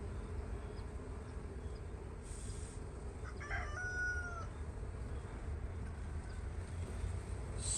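A rooster crows once in the background early in the morning, faint and brief over a steady bee hum during beekeeping work with damaged comb frames.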